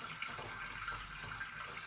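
Fruit schnapps poured gently into the filter basket of an air still gives a steady, continuous liquid trickle and splash, close and fairly quiet, running without a break through the whole stretch with no talking.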